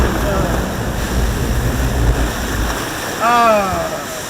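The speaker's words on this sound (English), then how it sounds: "What a great little log flume, guys." A log flume ride at Busch Gardens Williamsburg splashes through water with a steady rushing wash and wind noise, and a short whistling or voice-like tone near the end.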